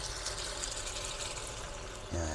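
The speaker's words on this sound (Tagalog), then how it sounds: "Dagdagan natin ng konting tubig." A little water pours into a fish sauce for fried tilapia with salted black beans, a continuous close trickle and splash of liquid with a brief thump near the end.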